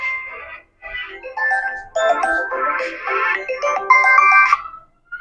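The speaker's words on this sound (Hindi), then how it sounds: "बीच में एक छोटा सा फोन आ गया" A mobile phone ringtone plays a bright, looping electronic melody for about five seconds during a class 10 maths trigonometry lesson, loud and close with short gaps between phrases.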